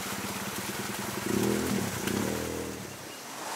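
Motorcycle engines rumble at close range on a forest track near a river in Krayan, idling and then revving up in a couple of swells before settling back, with steady background noise.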